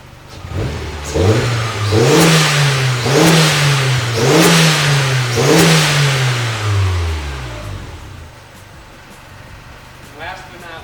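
A 1991 Mazda Miata with a turbo engine revs up repeatedly, about five rising-and-falling pulls in steady rhythm, loud and close, then the engine note sinks away and quiets toward the end.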